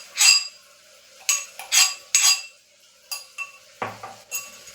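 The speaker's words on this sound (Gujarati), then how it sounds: "આપણે શાકને ફરીથી મિક્સ કરી લેશું" A spoon clinks and scrapes against a metal pot while guvar (cluster bean) and potato curry is mixed, giving a series of close, sharp metallic knocks in quick irregular bursts.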